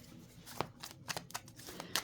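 Tarot cards shuffled by hand in a quiet room, giving a few soft, irregular riffling flicks and taps close by.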